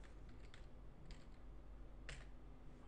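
A username being typed on a computer keyboard: a few light, scattered key clicks over steady background hum, close and fairly quiet, with no speech.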